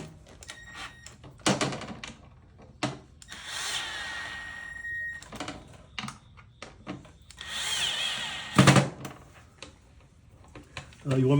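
A power drill with a Phillips bit drives screws through a metal hinge plate into a plastic blocker plate, several short whirring bursts between pauses, close and fairly loud, with someone talking in the gaps.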